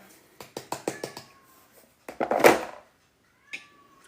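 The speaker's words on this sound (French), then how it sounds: "Vous entendez mon chat miauler se plaindre qu'il n'a pas le droit de rentrer dans la cuisine ou pas?" A house cat meows outside a kitchen door while moussaka is being prepared, with a run of quick taps followed by a loud complaining meow and a short, fainter meow afterward.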